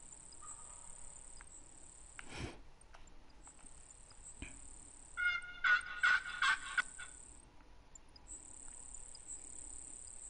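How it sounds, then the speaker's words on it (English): A wild turkey gobbles in a hunting video game, a quick rattling burst of several gobbles at mid distance over a steady chorus of crickets, with no talk. "Heard a turkey right away."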